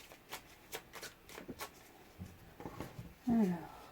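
Tarot cards being shuffled, a run of crisp, quick riffling flicks at moderate level, followed by someone speaking in French near the end.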